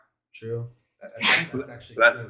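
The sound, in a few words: sneeze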